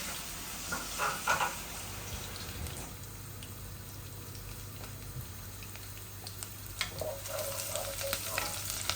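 Garlic sizzling in a hot pan with cumin, a soft steady frying crackle with occasional stirring scrapes and spatters, close and fairly quiet.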